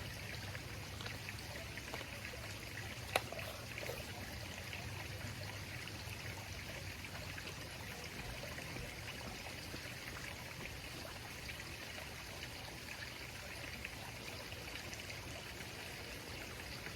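Water pours and trickles steadily into a pond filter pump being filled, a quiet, even running-water sound throughout with one faint click near the start.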